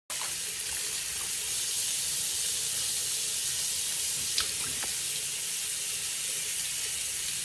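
Tap water runs steadily into a sink during a face wash with Garnier face wash, a continuous close hissing stream with a few brief splashes and clinks, no talking.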